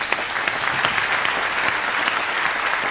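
Sustained audience applause at a live musical comedy show, dense steady clapping from a crowd filling the whole stretch without pause.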